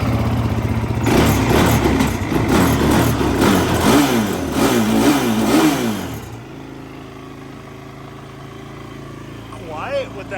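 An ATV engine catches and runs loud and close with a choppy, revving idle for about six seconds, then drops to a low quiet murmur with a voice speaking briefly near the end.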